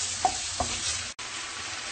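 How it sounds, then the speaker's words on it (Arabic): Chicken sizzles in a pan while a utensil stirs it, giving two quick scraping knocks over a steady hiss, close by, with a brief dropout partway through. "غادي نحركوهم مره نحركوهم، نخليو هذا الدجاج حتى يطيب."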